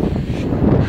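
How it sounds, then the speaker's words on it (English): Steady wind gusts roar and buffet across the microphone on a walk through Cheddar Gorge in February, a dense, continuous rumble with no voices. "It is very windy."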